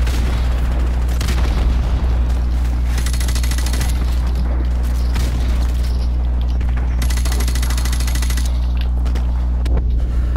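Loud grenade blasts and rattling gunfire fill a battle in Call of Duty Remastered, a heavy, continuous din of explosions under a steady low hum, with no one speaking.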